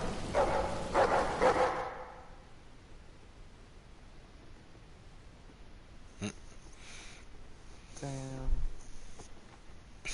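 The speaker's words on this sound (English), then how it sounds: "That dog is telling them off." A dog barks in The Walking Dead: Final Season game. A burst of noisy action opens, then a quiet stretch follows, and a single sharp, fairly close bark sounds near the end.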